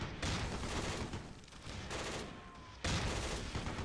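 Gunfire in the Close Combat 3 war game, a faint steady crackle of distant rifle and machine-gun fusillades with a sharper burst toward the end.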